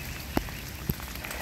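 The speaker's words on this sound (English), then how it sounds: "It's raining all day." Steady rain falls in an outdoor nature setting as a continuous wash of hiss, with two brief nearby knocks or drips standing out.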